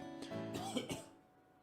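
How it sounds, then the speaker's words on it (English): A short, close cough or throat clearing from a character in the horror visual novel Historia, a few rough bursts lasting about a second before fading. "It looks like you're coughing or something."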